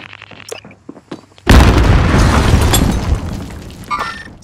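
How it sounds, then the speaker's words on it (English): A grenade goes off in Call of Duty: Modern Warfare, one loud close blast that erupts suddenly after a few quiet clicks and rumbles on with scattering debris before fading. "Grenade out!"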